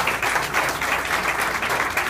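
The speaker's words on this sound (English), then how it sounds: "Let's give her a round of applause." An audience applauds an alderwoman at a ward gathering, with dense, steady clapping that holds at an even level for about two seconds.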